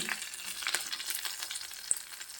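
Onion, green chilli and coconut sauté for a Kerala anchovy curry, a soft close-up sizzle broken by light spoon scrapes and one brief clink as the mixture is stirred.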